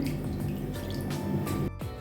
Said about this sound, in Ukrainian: Заливаю я 125 мг води